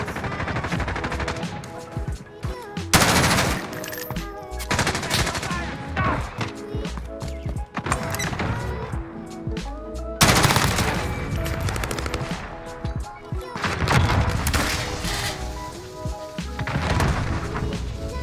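An M4A1 assault rifle in Call of Duty: Modern Warfare fires in repeated loud, rapid automatic bursts, separated by brief pauses and scattered smaller shots, close and punchy throughout with no talking.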